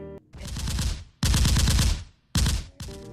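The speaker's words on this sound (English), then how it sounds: "Audio devices and videos run continuously, bombarding visitors' ears with gunfire" Recorded gunfire played from exhibit audio devices at a civil and human rights center: three loud bursts of rapid automatic fire, each about a second long, separated by brief pauses and sounding close and harsh.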